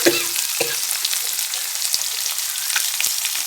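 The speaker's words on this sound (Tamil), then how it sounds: "மிளகா போட்டோடனே வெங்காயம் போட்டு வதக்கி வச்சுக்கோம்" Onion and chilli sizzle and fry in hot oil in a pan for an okra stir-fry, a steady crackling hiss with a few light stirring knocks, close and without speech.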